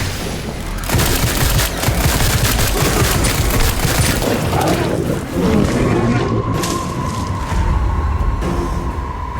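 Dense, loud gunfire and booming blasts while shooting zombies in the Sker Ritual shooter, continuous volleys with heavy low rumble across the whole stretch, plus a brief sustained tone near the end.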